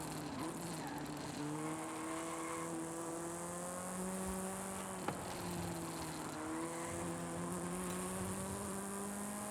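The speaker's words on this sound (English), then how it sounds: "But this car sounds ass" A race car's engine in the Forza Horizon racing game, a thin, buzzy, high-revving whine rising in pitch through the gears with brief dips at each shift, steady and fairly faint.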